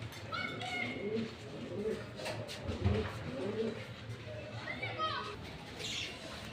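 Pigeons coo softly among a flock of pet birds, their low murmurs partly buried under children's voices and someone talking nearby.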